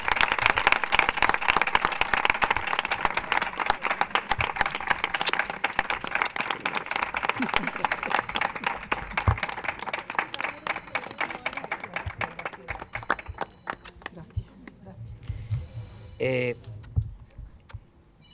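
Audience at a local fair-related event claps for a woman honoured for her long involvement, dense sustained applause that gradually thins and fades out, with a brief voice near the end.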